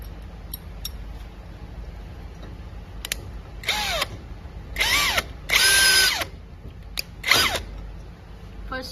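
A power drill drives screws to fix a long metal piece under a cabin, in several short whirring bursts that rise and fall in pitch, separated by quiet pauses and small handling clicks.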